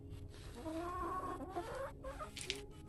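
Hens cluck softly around their egg-laying nest, giving low, drawn-out murmuring calls and a few sharper notes at close range against a quiet background.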